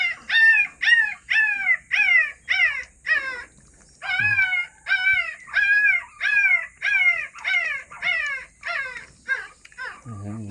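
A series of high, wavering puppy whimpers and drawn-out howls repeat in quick succession, loud and close, with brief pauses between cries.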